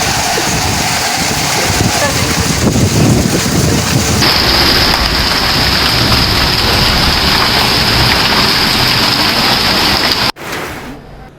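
Rain in news weather footage from Abbottabad and Haripur in Pakistan, with thunder and hail: a loud, dense downpour roars throughout and cuts off abruptly near the end, where a news presenter's voice begins.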